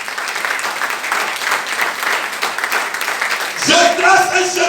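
A church congregation applauds and cheers steadily throughout, a dense wash of clapping with voices rising, while a preacher's amplified voice speaks over it and a sustained tone enters near the end.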